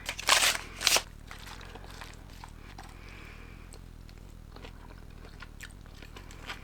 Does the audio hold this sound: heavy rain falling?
no